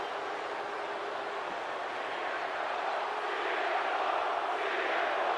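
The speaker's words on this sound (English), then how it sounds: "But this crowd is rocking." Wrestling arena crowd at a live SummerSlam event in Chicago roars in a steady, dense wash of cheering that swells slightly toward the end, continuous and loud with no clear single voices.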